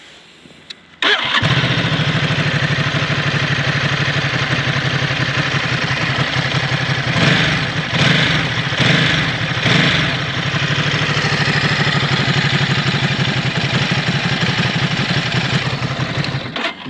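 A Ducati 950 S motorcycle that has been crashed and has damaged fairing cranks and starts after a quiet second, then settles into a loud, steady idle with a few brief throttle blips near the middle.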